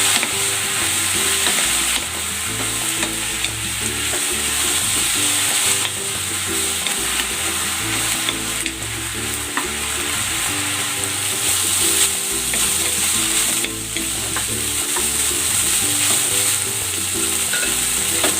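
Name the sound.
beef stir-frying in cooking oil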